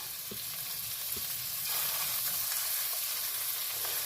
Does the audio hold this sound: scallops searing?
yes